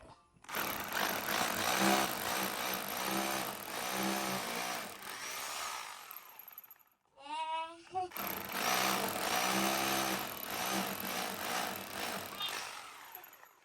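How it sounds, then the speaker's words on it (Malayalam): A power drill bores holes in a wall to mount a wifi camera clamp, two long loud whining bursts close by with a brief pause between them. "അത് മാർക്ക് ചെയ്ത് നമുക്ക് ഡ്രിൽ ചെയ്യാം"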